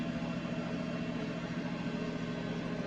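A tractor engine runs steadily and loudly while hitched to a sugar beet drill in a field, giving a continuous low rumble with a dense hum and no breaks, with no talk over it.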